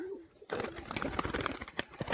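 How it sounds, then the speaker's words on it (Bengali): Red Turibaz pigeon released from its loft, a sudden burst of close bird sound after a brief quiet moment, continuing in short fluttering pulses. "এই যে বেরিয়ে গেছে পায়রাটা"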